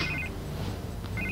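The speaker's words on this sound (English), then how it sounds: "I can't get the phone to stop ringing." A telephone in Batman: The Telltale Series gives two short electronic ring bursts with a pause between them, heard clearly over a low background hum.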